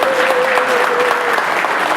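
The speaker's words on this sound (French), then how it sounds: "Applaudissez pour eux," A crowd at an association evening in Marseille applauds a visiting Brussels group, a brief, loud, even burst of clapping with a faint tone running beneath it.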